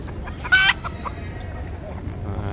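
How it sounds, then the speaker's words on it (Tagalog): Chickens cluck in the background at a poultry market in Dammam, Saudi Arabia, with a low rumbling ambience, and one louder, sharper bird call briefly stands out. "Ito maraming manok"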